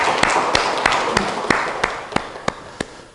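A church congregation at a Sunday worship service claps together. The claps land in a steady, evenly spaced rhythm, about ten sharp beats over broad crowd noise that slowly fades.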